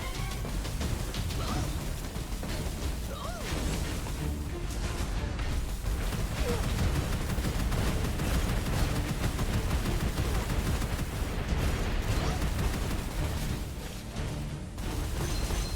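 Dense, continuous gunfire and grenade blasts from the video game Gunfire Reborn, a busy, loud barrage of shots and booms with no pause throughout.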